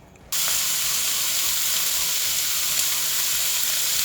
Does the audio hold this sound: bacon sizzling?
yes